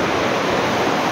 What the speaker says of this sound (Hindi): और पानी का बड़ा शोर है यहाँ पे।